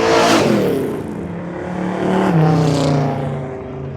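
A yellow Chevy II Nova on slicks and a big Chevrolet Cheyenne pickup on street tires launch at a dragstrip reunion, with loud, close engine roar swelling, easing, then surging again as they accelerate away.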